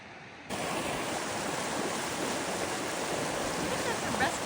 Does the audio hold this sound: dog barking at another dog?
no